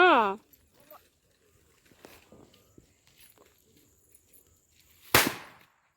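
One loud Diwali firecracker bang goes off near the end after quiet shuffling and faint voices, its crack trailing into a brief rumble.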